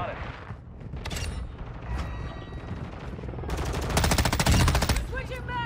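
M13B rifle fire in Modern Warfare 2, with loud rapid automatic bursts mixed with other game effects and a brief voice in the background.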